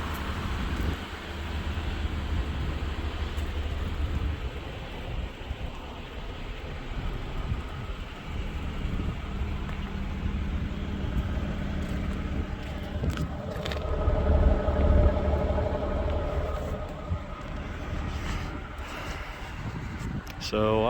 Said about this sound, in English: Yeah, the engine fan's running,